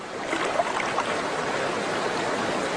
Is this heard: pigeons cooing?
no